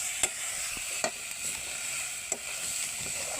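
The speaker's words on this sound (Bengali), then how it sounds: "এবারে আমরা টমেটোটা সব দিয়ে দিচ্ছি। ভালো করে নাড়তে হবে" Tomatoes being stirred in a cooking pan, a low steady hiss of frying with a few crisp taps of a spoon against the metal at irregular intervals, close up and free of speech.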